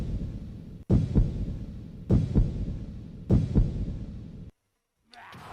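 Heartbeat sound effect from a Pokémon anime battle: three slow, heavy double thumps spaced evenly over a low droning hum, then a sudden cut to silence.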